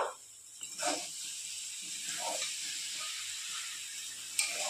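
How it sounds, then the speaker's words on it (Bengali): Cabbage sizzles in a frying pan as it is stirred, a steady soft hiss with a few louder crackling bursts and stirring scrapes, close and moderately quiet, with no talking. "নেড়ে চেড়ে ভাজা ভাজা করে নেব।"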